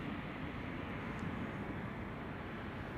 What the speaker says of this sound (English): the United flight that just arrived from Tokyo Haneda. That Dreamliner is going to be making its way to the gate along with TAP